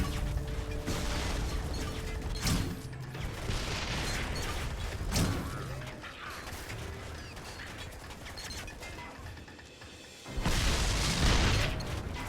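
A railgun in the video game Deep Black fires in heavy, muffled thumping bursts with mechanical clanks, several shots spread across the stretch and a loud surge near the end.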